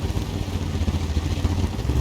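A badly damaged tank engine from a tank video game, with its driver knocked out, runs as a rough, low clattering rumble with uneven throbbing pulses. The sound is steady and fairly loud for about two seconds, and no speech is heard.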